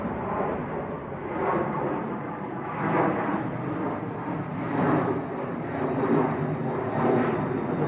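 A Cessna Citation 680 Latitude business jet takes off at Manchester Airport on a windy day, sending a broad, steady roar that swells and pulses in the distance through buffeting wind.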